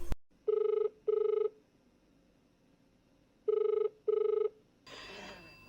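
A telephone rings twice, pauses, then rings twice more in a classic double-ring pattern, clear and fairly loud against a quiet background, with a brief burst of noise at the end.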